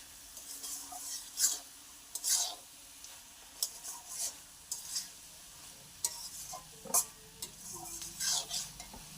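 Cabbage being stirred with garam masala powder in a pan, a quiet sizzle under repeated scraping and clinking strokes of a spoon against metal, close and intermittent.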